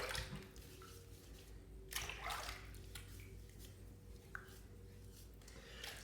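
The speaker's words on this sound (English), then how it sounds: "I'm going to rinse just a little bit." Water sloshes and splashes as a Gillette Super Speed safety razor is rinsed during a head shave, with soft trickles and occasional clinks against a basin, fairly quiet and close with no talking.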